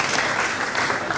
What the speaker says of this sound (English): A round of applause, sir.